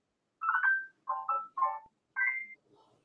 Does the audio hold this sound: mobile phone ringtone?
yes